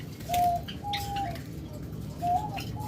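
Pet breeding pair pigeons or doves for sale coo softly in a few short, repeated calls over a low steady background hum, close by, with no voices.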